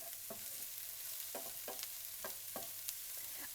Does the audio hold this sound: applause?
no